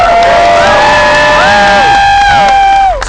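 An excited crowd at a Scott Pilgrim Takes Off convention panel cheers and whoops loudly and continuously, with many voices shouting at once in a dense, sustained roar that drops away abruptly at the end.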